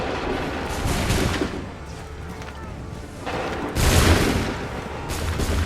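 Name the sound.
musket volley firing in Assassin's Creed 3 video game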